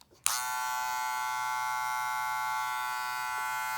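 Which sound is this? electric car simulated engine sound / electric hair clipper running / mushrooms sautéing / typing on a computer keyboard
electric hair clipper running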